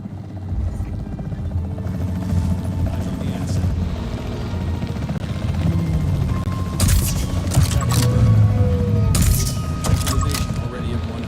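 A capture team helicopter in Jurassic World Evolution 3 drones with a steady low rotor hum, joined by sharp tranquilizer gunshots and mechanical clanks, while a voice talks over it.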